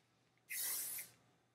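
One short hiss of hairspray onto bangs, a close aerosol burst lasting about half a second in an otherwise quiet room.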